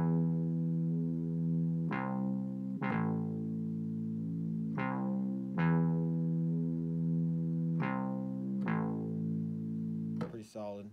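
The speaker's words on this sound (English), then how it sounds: "Distortion guitar." A distortion guitar synth preset plays sustained, harmonically rich notes with sharp attacks roughly every one to three seconds, each ringing into the next, ending in a brief noisy flourish; loud and alone in a home studio.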